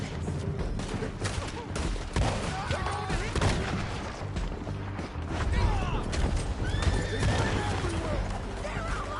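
Horses neigh and whinny amid galloping hoofbeats in Red Dead Redemption 2, with scattered gunfire and shouting voices in a chaotic outdoor skirmish, the horse calls rising clearly over a dense, loud mix.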